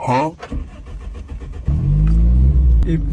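A car engine cranks and catches during a driving lesson, settling into a loud, steady running rumble after someone speaks over the quiet car.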